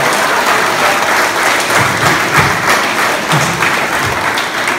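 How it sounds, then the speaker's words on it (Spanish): Steady applause from an audience at a motivational talk, loud and continuous throughout, with dense clapping and a few heavier thumps, no one speaking over it. "Dense un aplauso por haber venido."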